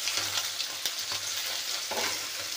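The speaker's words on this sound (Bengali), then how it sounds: "পার্শে মাছের ঝাল করার জন্য পার্শে মাছটাকে ভালো করে ভেজে নিলাম।" Parshe fish frying in hot oil, a steady dense sizzle with occasional crackling spits, continuous and close with no talk.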